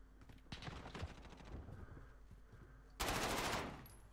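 Rapid automatic gunfire from a first-person shooter match, with bursts through a wall: several quick volleys early on, then a louder, dense burst near the end, all fairly close.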